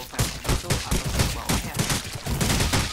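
Rapid bursts of gunfire in the video game Rules of Survival crackle continuously, dense overlapping shots at steady loudness with no pauses.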